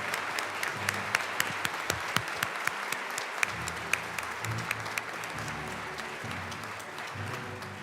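Steady applause fills a legislative chamber, many hands clapping at moderate distance with a few sharper individual claps standing out, continuing evenly for several seconds and tapering slightly at the end.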